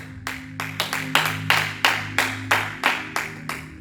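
A church congregation claps together in a steady rhythm, with about a dozen sharp, evenly spaced claps in quick succession, loud and close.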